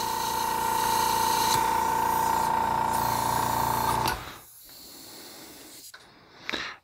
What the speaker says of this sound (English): And whatever liquid you have inside here, we spray it out into here.